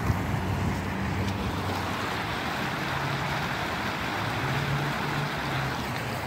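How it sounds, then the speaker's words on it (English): Small waterfall on a park river swollen by heavy rain, a steady broadband rushing wash of falling water that holds constant throughout, with wind buffeting the microphone and faint low tones underneath. "Over here, there's a little waterfall."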